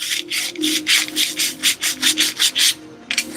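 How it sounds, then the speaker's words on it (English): Sandpaper rubbed by hand to clean out a part in a garage, a steady series of close, loud back-and-forth scrubbing strokes with brief pauses between them. "I think it's clean enough based on how much this sandpaper is falling apart."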